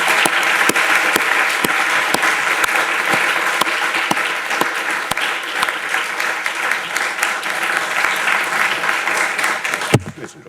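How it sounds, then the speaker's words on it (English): Conference audience for a natural language processing and sustainable finance programme giving a loud round of applause, dense clapping filling the room for about ten seconds before stopping abruptly with a brief thump. "just to give a quick round of applause for all of that work"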